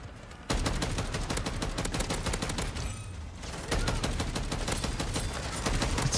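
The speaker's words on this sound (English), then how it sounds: "The turret is still going." Rapid automatic turret fire in the zombie mode of the video game Modern Warfare 3, a loud, dense, continuous stream of shots that pauses briefly midway and then resumes.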